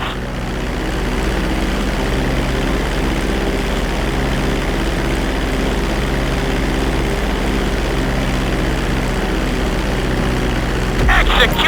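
Propeller airplane in GTA 5 flight school descending toward a runway for landing, a steady loud engine drone that holds throughout, with a brief burst of noise near the end.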